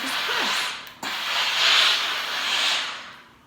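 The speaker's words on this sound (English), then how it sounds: "I'm just going to take the iron, just a tiny bit of steam through it," A steam iron presses embroidery through a towel, giving loud, close hissing bursts of steam that swell and fade over several seconds, with a brief break partway through.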